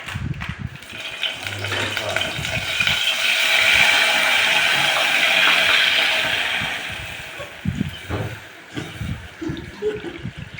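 Milk being poured into a hot pan of grated carrot and beetroot for halwa, a broad steady liquid pour rising and swelling over several seconds, then fading into soft clinks and stirring, with no talk.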